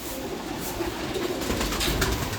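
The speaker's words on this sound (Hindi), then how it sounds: "ये एक ही कबूतर है बस" A rooftop pigeon in Pakistan gives a short burst of low cooing, close and fairly steady, with faint background noise and no talk.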